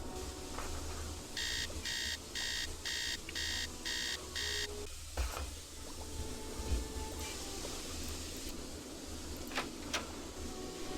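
An alarm clock in the Nancy Drew video game rings in six evenly spaced electronic bursts, loud and regular, followed by quieter ambient game sounds with faint background noise.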